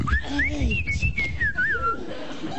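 A person whistles a wavering, rising and falling tune, loud and close, with some background noise underneath.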